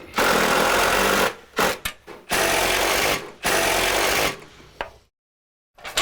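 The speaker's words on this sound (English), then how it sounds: "I'm just gonna finish driving the screws." A power drill drives screws into a rain gutter along a roof soffit, whirring loudly in long sustained bursts, stopping and restarting with short pulses before falling silent near the end.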